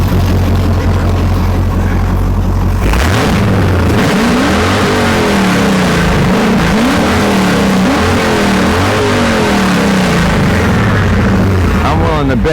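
A Dodge Challenger with long tube headers fires up after a steady generator hum cuts off, then revs repeatedly in loud, close, rising and falling surges that dominate the scene, with a voice occasionally underneath.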